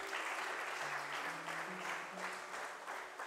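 A church congregation applauds with sustained, even clapping that fills the room at moderate distance. Faint voices sit beneath the clapping.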